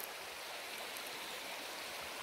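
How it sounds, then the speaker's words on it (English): A flowing brook in the woods at Indigo Hills, Cape Breton, gives a steady, quiet rush of water, close by and alone, with no talking. "we made it to the brook."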